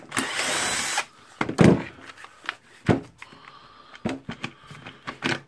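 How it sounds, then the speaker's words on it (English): Power tool whirring in short bursts while removing the two screws that hold the motor housing of a Bosch PBH 3000-2 FRE rotary hammer, with a longer opening run followed by brief spurts and clunks of handling, close by. "I will unscrew the two screws here."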